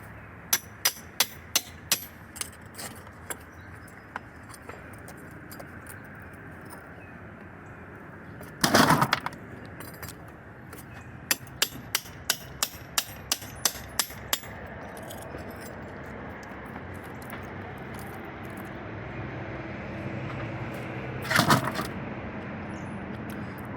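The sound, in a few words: chisel and hammer breaking apart a chimney crown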